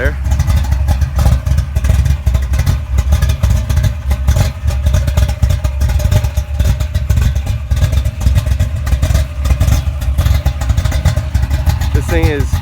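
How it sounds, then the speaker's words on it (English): A 1969 Pro-Mod Camaro with a big engine and choppy cam runs steadily outdoors, its loud, continuous lumpy rumble close by from start to finish. "here we have an exterior video of the Camaro running. Just can get to hear that chop and that beautiful sound of the cam"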